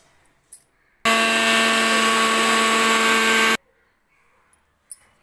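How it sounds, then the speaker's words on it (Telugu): A mixer grinder coarsely grinding cooled roasted spices for a masala ginger garlic paste runs in one loud, steady whirring burst of about two and a half seconds, with near silence before and after. "మరీ మెత్తగా కాకుండా ఇలా బరక బరకగా మిక్సీ పట్టుకొని"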